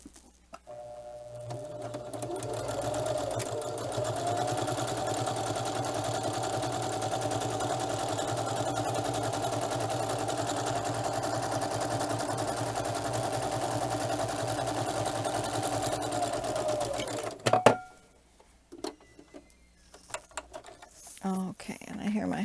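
A sewing machine stitches along the top row of a quilting project with a steady, fast mechanical whir and patter that ramps up, runs evenly for about fifteen seconds, then stops, followed by quiet handling clicks and soft sounds.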